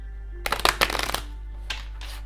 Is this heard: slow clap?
no